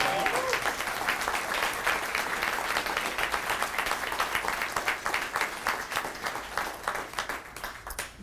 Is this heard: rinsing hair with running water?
no